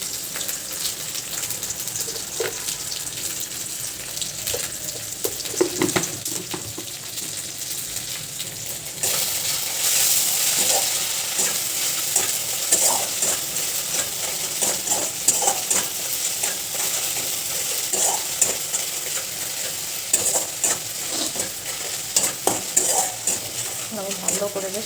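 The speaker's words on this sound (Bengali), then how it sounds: "তেলের মধ্যে ভালো করে ফ্রাই করে নিচ্ছি" Fish curry ingredients fry in hot oil while being stirred, producing a constant loud sizzle with repeated scraping and clinking of a utensil against the pot, close up and without speech.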